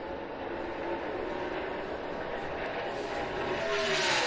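A NASCAR Cup Series race car on a pole qualifying lap sends out a steady, broad engine roar that holds for several seconds and swells slightly toward the end as it rushes through a corner.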